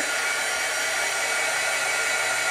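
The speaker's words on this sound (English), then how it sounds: "Or I can use my heat gun and start getting it dried quicker." A heat gun blows steadily to dry ink mist sprayed on paper, a loud, even, unbroken whooshing roar close by with no voices.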